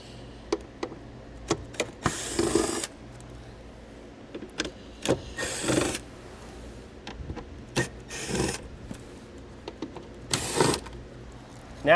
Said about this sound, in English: We'll remove those all with a T20 Torx bit.